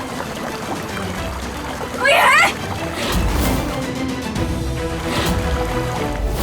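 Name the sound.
water pouring and rising in an enclosed space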